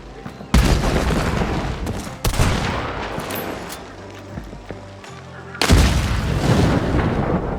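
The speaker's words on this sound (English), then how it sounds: "Red and yellow barrels explode immediately when you shoot them." Barrels blowing up in Hunt: Showdown, three loud, close booms with long rumbling tails that overlap and decay between blasts.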